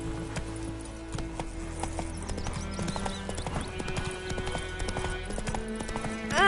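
Hooves of the horse Roach clip-clop at a steady trot in The Witcher 3: Wild Hunt, fairly close and continuous, with game music and ambient sound beneath and a brief whinny near the end.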